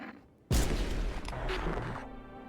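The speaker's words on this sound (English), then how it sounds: "I'm shooting her" A sudden, loud gunshot blast from a video game cracks out after a quiet moment, then booms and rumbles on with sustained noise for about two seconds before cutting back down.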